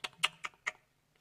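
A few quick keystrokes on a computer keyboard, four distinct close clicks in a short irregular burst that trails off into quiet.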